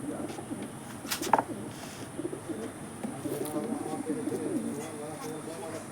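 Pigeons kept for sale coo in soft, low repeated bursts, close by, alongside scattered flutters and knocks.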